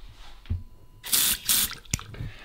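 Water runs from a farm tap on a hose fitted with an extra trigger release, rural farmyard in winter, coming in a few loud bursts of gushing flow close by, with no talk over it.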